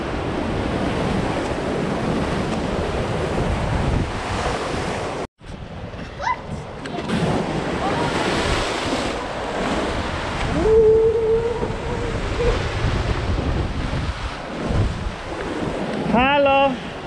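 Ocean surf and strong wind along the rocky Tenerife coast at Boca Cangrejo, a loud continuous wash of waves with heavy wind buffeting the microphone, a brief dropout midway and faint tonal sounds near the end.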